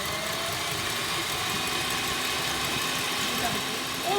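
An electric mixer whisking meringue at medium speed gives a steady, continuous motor whir with a rattling texture, close and constant, while a person talks over it.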